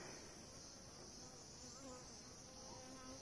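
A captured swarm of honeybees being hung up in a basket on a hillside, giving a steady, dense buzzing drone that stays fairly even and close throughout, with no talking.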